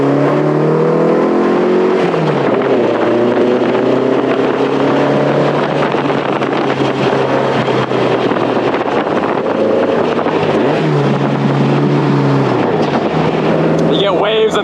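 A 1950s Porsche 550 Spyder engine running steadily while driving, loud and continuous with wind buffeting, gear-linked pitch shifts across the stretch, heard from the cockpit.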